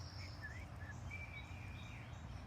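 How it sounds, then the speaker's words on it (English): Small birds give thin, high whistled chirps and short sliding notes, fairly faint and spaced out over a low, steady outdoor background hum. "They like to whistle and sing to each other."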